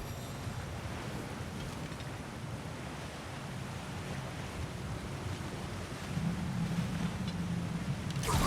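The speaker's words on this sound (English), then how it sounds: "Sounds like you got the water moving along" Rushing water flowing through a channel in the God of War Ragnarok game world, a steady broadband wash with low rumble that swells louder near the end, no voices over it.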